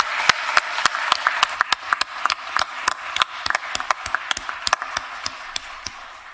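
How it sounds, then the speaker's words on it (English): A small group at a county commission meeting gives a round of applause, many sharp individual claps spaced irregularly over about six seconds in a hard-surfaced room. "Let's give him a round of applause."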